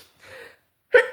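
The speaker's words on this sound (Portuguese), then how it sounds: "eu tive que espirrar" A single sneeze from a man reading scripture aloud, a faint intake of breath followed by one sharp, loud burst, close to the microphone with no talk over it.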